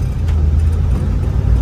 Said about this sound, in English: Still got that nice rev torque too